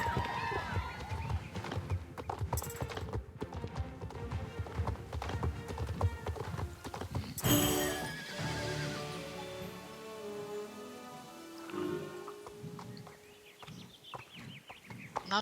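Horse hooves clip-clopping in a steady rhythm while riding in the online game Star Stable, with occasional whinnies and background game sounds, heard under a person talking.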